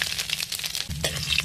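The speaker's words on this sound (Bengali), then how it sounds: "তেলটা দিয়ে দিচ্ছি থেতো করা আদা।" Crushed ginger hits hot mustard oil already seasoned with salt, giving a busy sizzle of sharp crackles and spits in quick irregular bursts, close and fairly loud.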